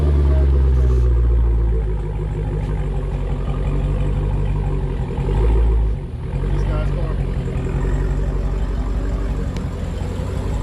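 A stock Dodge Challenger Hellcat V8 runs on a Mustang chassis dyno, a loud, steady low rumble that holds nearly constant throughout, dipping briefly once before resuming.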